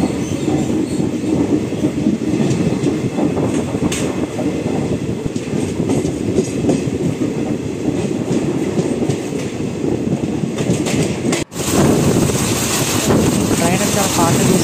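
Circar Express passenger train running fast between Samalkot Junction and onward, a loud continuous rumble of wheels and carriage with clickety-clack and wind buffeting, briefly dipping near the end before resuming.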